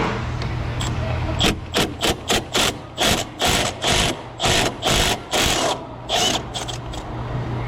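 A right-angle impact wrench takes off the steering shaft collar on a Subaru Impreza WRX, rattling in a string of about a dozen short, close, loud bursts with brief gaps between them.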